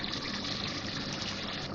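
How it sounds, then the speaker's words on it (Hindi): Water is poured into frying nihari masala in a pan, a short steady trickle and gush with a sizzling hiss, close and fairly loud with no talking. "थोड़ा सा पानी डालूँ ताकि जले नहीं मसाला।"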